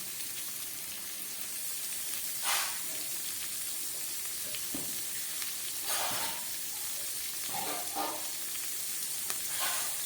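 Finely shredded cabbage frying in a pan, a low steady sizzle broken by a few louder bursts of crackle and occasional stirring knocks, with no talking.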